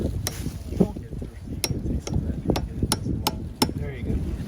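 Sharp hammer taps on taps in maple trees for syrup, ringing out one at a time at an uneven pace, with some background voices and clatter in between.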